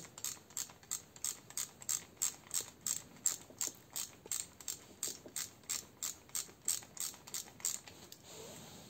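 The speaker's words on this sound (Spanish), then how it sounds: "procedo a retirar este tercer tornillo" A ratchet wrench loosens an alternator bolt on a Nissan Tiida with a steady series of about twenty close, crisp clicking strokes in an even rhythm, quiet overall and with no talking.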